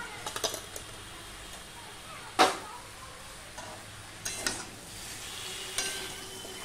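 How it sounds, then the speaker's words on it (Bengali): A spoon stirs spiced vegetables with raw chickpeas, dusted with chili, coriander and cumin powder, in a pan. Quiet scrapes and soft clicks come at irregular moments, with one sharper scrape in the middle and a faint low hum underneath. "সম্পূর্ণটা আমি ভালো করে আরো নেড়ে নেব"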